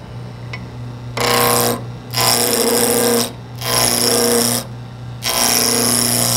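Spindle roughing gouge cutting a square wood block on a lathe into a cylinder: four loud, close bursts of harsh ripping chatter, each lasting about a second, separated by short pauses in which only the steady lathe motor hum continues.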